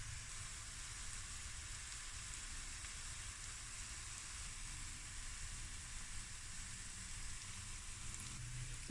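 Onions fry in a pan for pilau rice, a faint, steady crackling sizzle like light rain that holds evenly throughout with no voices.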